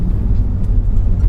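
A Tata Safari Storme SUV on the move gives a loud, steady low rumble of engine and road noise, close and constant throughout with no voices.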